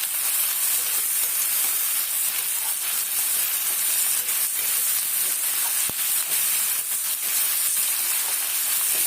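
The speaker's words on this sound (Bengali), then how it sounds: "এখানে পেঁয়াজটা প্রথমে দিয়েছি, পেঁয়াজটা একটু ভাজা হয়ে যাবে" Chopped onion frying in hot oil in a wok at the start of a potato curry, giving a continuous close, even sizzle and hiss with faint stirring scrapes and no talk.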